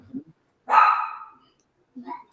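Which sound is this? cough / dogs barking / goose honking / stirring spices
dogs barking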